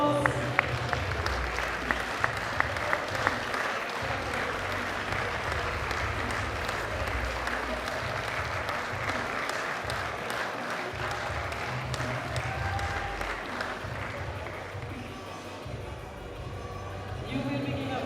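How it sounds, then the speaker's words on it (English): An audience at a European classic powerlifting championship applauds the men's 83 kg lifters with long, steady clapping that carries through the hall, dipping briefly before swelling again, with speech faintly mixed in. "Big round of applause."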